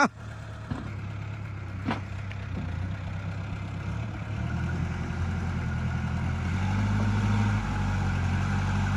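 An Iseki NT554 tractor engine idles with a steady low rumble, fairly close and moderately loud, with a couple of brief clicks early on and the tone rising slightly near the end.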